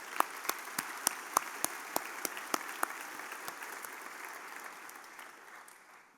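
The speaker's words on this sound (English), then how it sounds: "let's give them a round of applause for all of their support" Audience applause at a 2019 Williamsville North High School graduation ceremony: a dense, steady wash of clapping with sharper individual claps in the first three seconds, gradually fading out toward the end, no voices.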